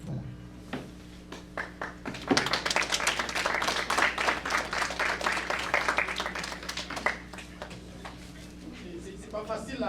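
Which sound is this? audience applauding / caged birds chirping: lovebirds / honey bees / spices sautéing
audience applauding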